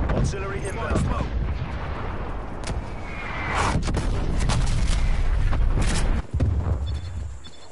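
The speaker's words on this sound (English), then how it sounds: "Artillery inbound." An artillery strike in the Call of Duty: Cold War video game, a dense barrage of booming blasts and sharp impacts that rumbles on for several seconds, loud and continuous, with game voice lines mixed in.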